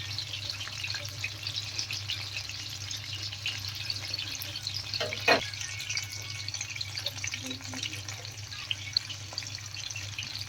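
Chicken kebab fries in a pan with a steady low sizzle, and a single clear clatter midway marks a piece being turned over; otherwise a quiet, even hiss.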